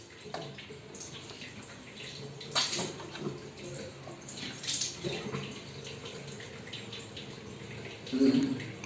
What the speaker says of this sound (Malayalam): വാ നന്നായിട്ട് കുലുക്കി കഴുകുക